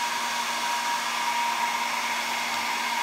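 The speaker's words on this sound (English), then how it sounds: "I had it on high because the low did not work well with this hair dryer." A hair dryer runs on its high setting in a steady, unbroken whir with a faint tonal hum, close and constant for the whole three seconds, with nobody talking.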